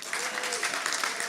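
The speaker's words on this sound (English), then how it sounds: "So if you could give me a round of applause for Chef Maureen Fowler." A brief burst of audience applause at an outdoor-style culinary stage event for a chef, dense clapping filling the moment with a voice faintly mixed in.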